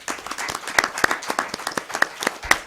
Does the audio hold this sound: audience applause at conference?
yes